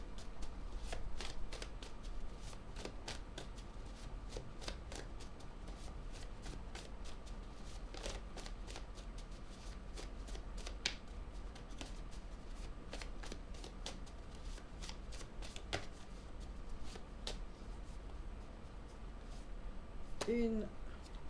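Playing cards being shuffled and handled during a French-language card reading, a quiet steady riffling and tapping with soft clicks throughout, faint and close.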